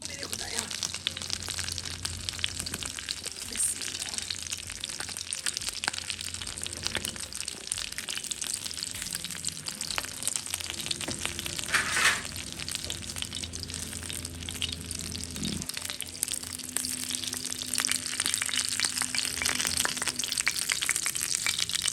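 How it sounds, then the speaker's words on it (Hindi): Chicken fries on a tawa in a busy Pakistani street-food kitchen for tawa chicken masala, giving a steady, continuous sizzle with occasional scraping and clatter and faint background voices throughout. "अभी फ्राई हो रहा है, फिर भी मसाला डलेगा इंशाल्लाह इस पे"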